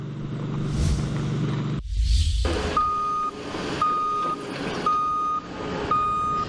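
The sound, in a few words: construction truck reversing beeps at building site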